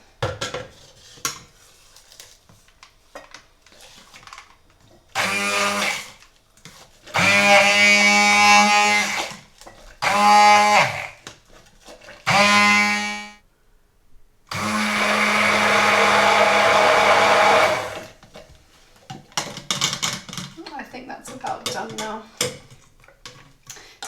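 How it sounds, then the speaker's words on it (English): A blender whirs in several loud bursts of a few seconds each, blending papri chaat sauce, ending with a longer run, and clinking utensils sound between bursts. "And again, I'm just going to blend this together."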